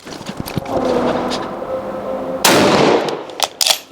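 A single sharp rifle shot rings out from a 7.62mm Lee-Enfield L39, loud and close, followed by a short decaying echo and some handling noise.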